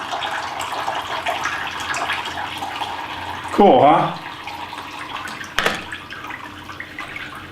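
An indoor decorative waterfall in a man cave runs with a steady trickling splash, while someone speaks briefly over it and a sharp click sounds near the end.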